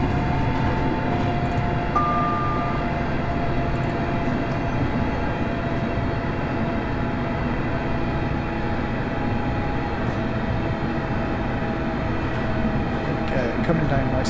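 A ScotRail Class 385 electric train slows under braking in the Train Simulator game, with a steady loud rumbling cab drone and a brief brake tone, continuous throughout.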